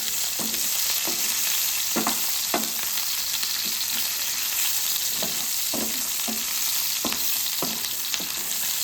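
Bell peppers frying in a hot pan, a dense continuous sizzle with repeated irregular knocks and scrapes of a spatula against the pan throughout.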